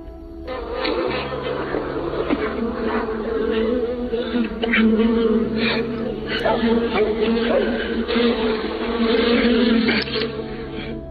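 A steady, dense buzzing of many bees fills the whole stretch at close range, with a voice faintly audible underneath.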